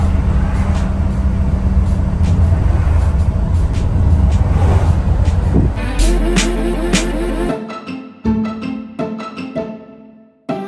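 A V8 car with a blown head gasket, bought at auction, drives along with a loud, rough engine roar and road noise that eases after several seconds into quieter, intermittent knocks and rattles.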